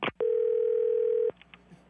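A single steady telephone tone hums for about a second after a call is hung up, clipped at both ends by handset clicks, with faint room noise afterward.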